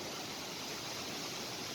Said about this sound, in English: it's a nice and safe waterfall even during rainy season